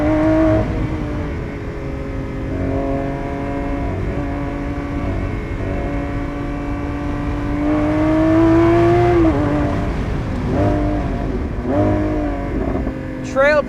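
Lamborghini Aventador SVJ Roadster, a 2022 model, revving hard and accelerating, its engine tone climbing steadily through the gears with a sharper surge near the end, loud and close, with no talk over it.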